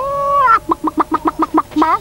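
A robot character imitating a chicken: a rising squawk, then a quick run of about eight rhythmic clucks, ending in another squawk, loud and close.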